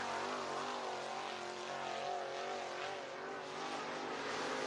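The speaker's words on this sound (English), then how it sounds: "Got a little bit high, had to get on the brakes there, Millwood." Race car braking and then accelerating off turn 4 at Southern Raceway, a steady engine roar at a constant level, held throughout the stretch with no talk over it.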